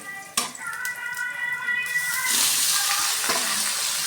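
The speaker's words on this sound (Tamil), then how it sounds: "ஸ்டவ்வை சிம்மில் வச்சு நல்லா வதக்கி விட்டுக்கணும்" Grated raw mango is added to a hot pan and sautéed, a sharp clatter giving way to a rising, steady sizzling hiss that fills the second half, close and fairly loud.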